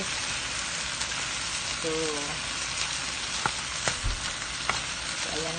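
Chicken fries in its own rendered fat with no oil added, giving a steady soft sizzle with occasional pops and a few light clinks. A voice speaks briefly over it.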